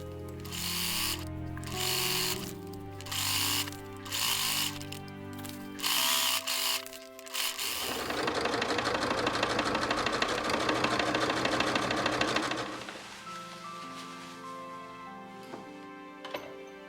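A sewing machine stitches a waistband onto an adult garment in a long, steady burst of buzzing motor noise midway through, with tonal background music playing before and around it.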